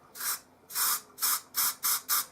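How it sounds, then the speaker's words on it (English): Aerosol spray paint hisses from a can used on an Airfix plastic model kit: six short, close bursts of bright hiss separated by brief pauses, with no talking. "The spray won't work properly if you have it pointing down like this."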